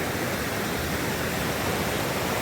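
Slow water runs over cobble buildup in the Left Hand Canyon creek in Colorado, a steady broadband rushing wash that stays even and continuous throughout with no voices.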